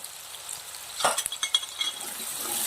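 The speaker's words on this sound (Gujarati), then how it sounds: "હવે મસાલો સરસ તેલના અંદર સંતળાઈ ગયો છે" Spice masala with turmeric and salt fries in oil for a spinach and dill greens dish, giving a soft crackling sizzle broken by a few sharp clinks and scrapes of a spoon stirring the pan.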